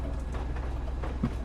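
A train rolls along in the survival video game Rust with a steady, rumbling clatter from its wheels. The sound is continuous and loud and close, and no one speaks over it.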